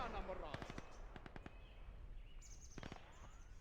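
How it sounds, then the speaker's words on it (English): Grenade explosions in the game Gates of Hell: Ostfront come as a handful of sharp, faint distant bursts in two quick clusters, with a low voice talking under the battle noise. "We're getting some nice nades in."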